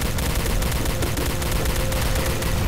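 Rapid, continuous fire from a weak-sounding pea shooter gun in the Star Trek Elite Force 2 shooter game, loud dense bursts of shots running together without pause for under three seconds, no voices.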